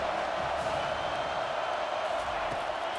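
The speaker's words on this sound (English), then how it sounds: "Decibels rising as the crowd gets behind this defense on 3rd down" Stadium crowd in the College Football 25 video game, Alabama vs. Wisconsin, rising on a third-down defensive stand: a steady, loud roar of cheering that fills the whole stretch without letup.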